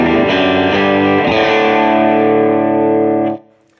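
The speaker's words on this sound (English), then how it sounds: "So now with my compressor on, it sounds like this." An electric guitar clean tone through a compressor on a Line 6 HX Stomp rings out with a compressed, sustained chord that stays even in volume, carrying a slight reverb tail before cutting off.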